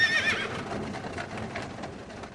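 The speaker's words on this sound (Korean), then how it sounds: "묵직한 마차가 움직이고 여행이 다시 시작되었다." A horse neighs loudly at the start as a heavy horse-drawn carriage sets off, followed by a softer rumbling with faint hoof clops fading away.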